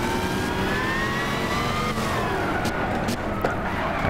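Historic race car in Gran Turismo 6 accelerating hard, a steady loud engine drone with rising harmonics that climb and dip through the gears, continuous for the whole stretch.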